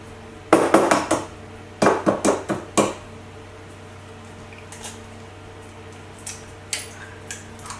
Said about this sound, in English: So we've got 3 eggs which we need to crack.